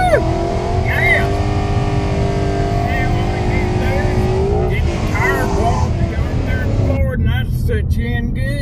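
A new car accelerating hard at full throttle during break-in, the engine note climbing in rising revs, loud and close, with voices talking and whooping over it.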